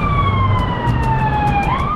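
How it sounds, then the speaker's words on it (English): A wailing siren passes by on the street, its tone sweeping and dropping in pitch as it goes, loud over traffic rumble. "We'll wait for that siren to pass."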